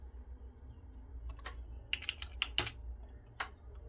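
Keys tapped on a computer keyboard while adjusting a layout in MS Word, a scattered run of sharp clicks, several in quick succession, close up over a low steady hum.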